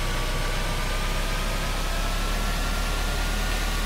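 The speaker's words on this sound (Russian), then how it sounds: "Я не знаю, что означает этот шум двигателя" Steady engine drone of a moving vehicle in the video game REC Shutter, a constant low rumble under a flat hiss, loud and unchanging throughout.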